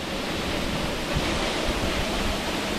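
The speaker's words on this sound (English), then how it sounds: "This is a double waterfall in higher flow, plunging into that beautiful pool" A double waterfall in high flow plunging into a pool in Gifford Pinchot National Forest, heard as a steady, loud broadband roar of rushing water with no voices.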